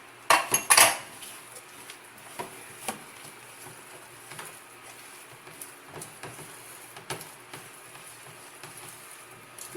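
Flour and a room-temperature egg being mixed in a bowl for homemade wholemeal bread: sharp clinks and scrapes of a utensil against the bowl, a quick cluster at first, then sparse taps, close and alone.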